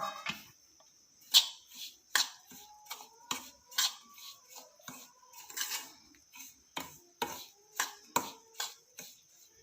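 A metal spatula clinks and scrapes against a pan in a steady series of sharp taps while dry fruits and cardamom are stirred into fried chuji for chuji laddu, with no talking.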